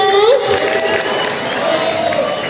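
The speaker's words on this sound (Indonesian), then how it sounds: "Berikan tepuk tangan untuk Kak Adrina." Workshop audience at a school entrepreneurship event in Tangerang Selatan claps and cheers in a dense, steady burst of applause, mixed with crowd noise.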